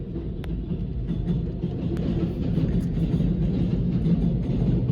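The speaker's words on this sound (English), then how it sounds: "More trains." A train rumbles past steadily, a heavy low drone with faint metallic clicks, loud and continuous throughout.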